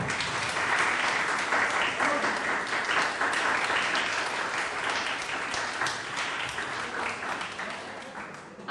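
Student council training audience breaking into sustained applause, dense crowd clapping filling the room, steady then tapering slightly, with a brief spoken thanks underneath.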